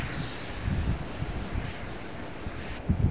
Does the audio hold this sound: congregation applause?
no